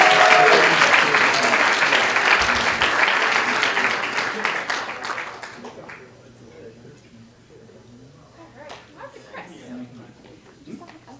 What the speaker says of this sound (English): Give all of our winners a huge round of applause.